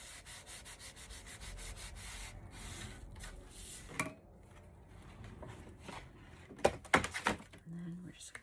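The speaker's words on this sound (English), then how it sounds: "Just rub that down so that the glue takes." Hand rubbing across paper to press it down before gluing, for a keepsake folio, with steady scraping strokes for several seconds, then quieter handling and a few sharp taps and knocks near the end.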